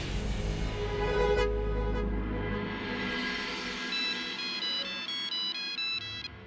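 A phone ringtone repeats in a steady, bright electronic pattern at moderate volume while someone places a call, with a low rumble underneath in the opening seconds and no talking.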